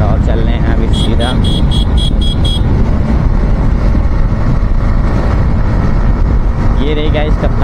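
Yamaha MT-15 motorcycle riding on a highway, its engine droning steadily amid loud wind rush, with a rider talking over it and a few high beeping tones early on.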